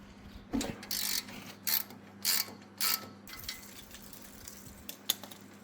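A ratchet wrench undoes a 16 mm sway bar link nut on a BMW X1 F48: close, sharp bursts of rapid clicking in short spurts with pauses between, then a few lighter ticks and clinks, no speech.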